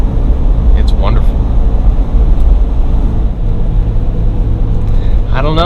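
A high-mileage Lexus GX470 driving on wet roads, a loud, steady low engine and road rumble with tyre hiss throughout, someone talking over it.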